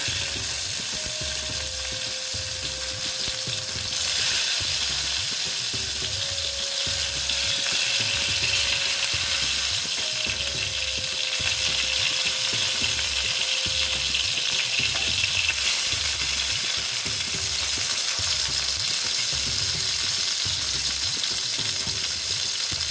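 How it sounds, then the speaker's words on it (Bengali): Eggplant pieces frying in hot oil make a loud, continuous close-up sizzle with faint rhythmic pulsing throughout. No voices are heard. "তেলটা মোটামুটি গরম হয়ে গেছে এবার আমি বেগুনগুলো দিয়ে দিচ্ছি"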